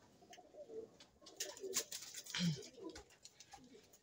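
Racing pigeons at a loft coo in low, soft repeated calls, close by, with light rustling and faint chirps around them; no one speaks.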